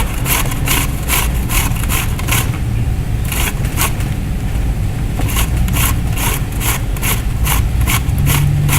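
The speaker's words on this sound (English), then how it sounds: "Zucchini is so soft, it grates very quickly." Soft zucchini rubbed by hand against a kitchen grater in quick, repeated rasping strokes, a steady close scraping rhythm with a low background rumble and no talking.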